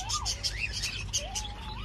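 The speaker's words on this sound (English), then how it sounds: "Loads of birds, which Buzz loves birds." Many birds chirp and tweet outdoors in quick, overlapping bright calls over a low background hum, close and clear over a couple of seconds.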